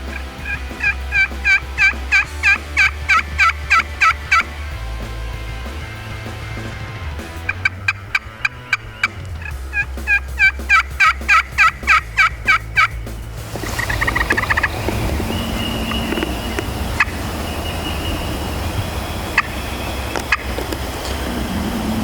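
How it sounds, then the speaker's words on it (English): Wild turkeys gobble during a midday hunt in open strut zones: two bursts of rapid, rattling gobbles, each lasting a few seconds, then a steady quiet outdoor background. "see if we can't get one to gobble in the midday"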